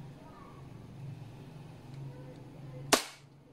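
WE Hicapa 5.1 T-Rex airsoft gas blowback pistol fires a single sharp, loud crack with a quick decay, following a low idling background hum.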